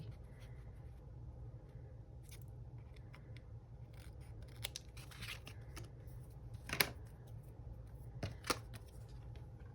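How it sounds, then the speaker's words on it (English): Scissors cut through a stiff cardboard-like card, giving a few faint, separate snips and crunches spaced out over quiet room background. "I did cut the card. I was like, why is it so hard to cut?"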